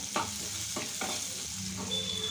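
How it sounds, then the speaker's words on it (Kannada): Sliced onions fry in a pan toward golden brown for a North Karnataka meal, a steady close sizzle broken by a few scraping stirs of a spoon. "ಆಮೇಲೆ ಸ್ವಲ್ಪ ಉಳ್ಳಾಗಡ್ಡೆ ಹಾಕಿ ಗೋಲ್ಡನ್ ಬ್ರೌನ್ ಬರೋ ಥರ ಫ್ರೈ ಮಾಡಿ"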